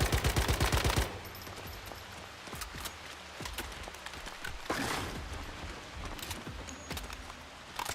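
Rapid automatic gunfire bursts in the survival shooter Once Human, a loud rattling volley of about a dozen quick shots up front, then scattered single cracks and thuds over steady background game noise.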